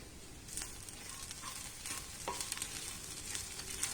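Tamarind being stirred into chammanthi frying in a pan, a faint, low hiss of frying with a few scattered light stirring scrapes and ticks, no voices.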